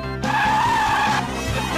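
Low-grip eco-friendly tyres screech as a small car skids, a sustained squeal lasting about a second over engine noise, loud and close, fading into a rough rumble.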